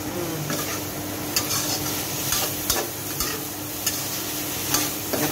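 Pork with holy basil and garden bird's eye chilies stir-fries in a pan: a constant loud sizzle, with a spatula scraping and clinking against the metal every second or so.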